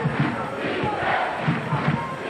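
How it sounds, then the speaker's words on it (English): Basketball crowd in a college arena on its feet and cheering, a dense roar of many voices and stamping at steady loudness, with a commentator talking over it. "Crowd on its feet."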